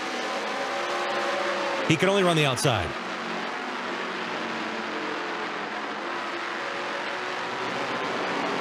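ARCA race cars circling Iowa Speedway in the final laps, a steady broad engine roar from the pack with a brief louder car sweeping past, all under continuous commentary.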